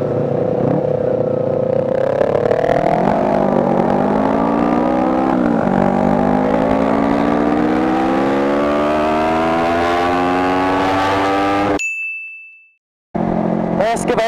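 A custom Ninja 250R streetfighter motorcycle engine climbs steadily through the revs while riding, a loud close rising whine with several gear changes before it cuts out abruptly.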